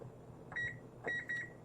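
Short electronic beeps from a timer being set during a live yarn-dyeing session, three quick tones in two bursts over a quiet background hum.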